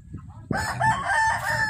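Free-range village chickens in a small, simple backyard coop: faint clucking comes first, then a rooster breaks into a loud, close crow that carries to the end.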